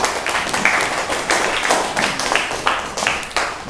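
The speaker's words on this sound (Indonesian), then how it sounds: "Aplaus lagi untuk kalian semuanya." A class of schoolchildren clapping together in a classroom, a dense, steady patter of many hands lasting a few seconds with irregular louder bursts.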